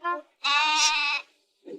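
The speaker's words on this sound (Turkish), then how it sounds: "Şşş keçi sessiz ol" A cartoon goat bleats in a loud, wavering, nasal cry: a short bleat, then a longer sustained one, and a faint trailing grunt at the end.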